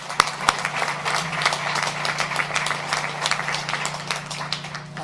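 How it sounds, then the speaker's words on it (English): Steady applause from a crowd at a government and automotive announcement at the Honda plant in Alliston, dense clapping sustained throughout with no voices standing out. "Let's give them another big round of applause."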